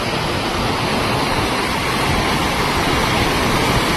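River water rushing steadily at the Triveni confluence of the Hiranya, Kapila and Saraswati rivers, a dense, continuous roar close by with no talk.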